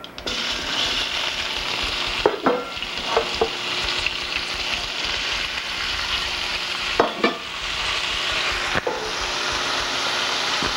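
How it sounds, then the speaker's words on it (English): Mustard seeds and turmeric crackle and sizzle in hot oil for an Indian vegetarian vagar, a loud steady frying hiss with sharper pops and scraping stirs breaking through at intervals. "So what I'm doing is I'm putting the mustard seeds in it, and I'm going to put a little bit of turmeric in it."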